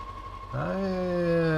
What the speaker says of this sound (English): Stop this engine, please.